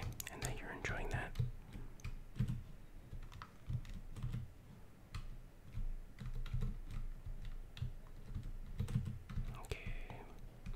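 Keys clatter on a computer keyboard during gameplay, quick irregular bursts of tapping close to the microphone, with soft whispered talk drifting in now and then.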